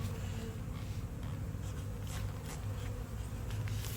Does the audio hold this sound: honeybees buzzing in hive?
yes